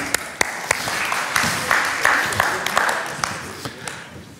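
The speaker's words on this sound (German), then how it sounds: "Dankeschön und einen Applaus" An audience at a talk applauds, a broad wash of clapping with a few sharp, distinct claps standing out and some voices mixed in.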